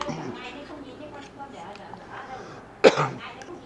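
Soft talk and breathing lead into a single sharp cough or throat clear near the end, followed by a brief rasping aftersound.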